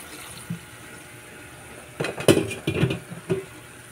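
Tap water runs in a kitchen during cooking, starting faintly and then splashing louder in a few uneven bursts, with no one speaking.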